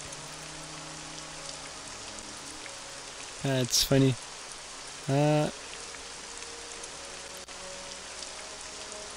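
Steady rain from the video game Morrowind hisses evenly throughout, a dense, constant patter on surfaces, with a brief spoken remark in the middle.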